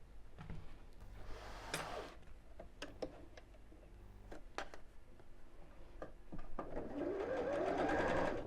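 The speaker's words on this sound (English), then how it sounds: "Then I'm going to top stitch all the way around the edge." A sewing machine topstitches around the edge of a bag, running in short close bursts with ticking mechanism between them, then settling into a longer steady run near the end.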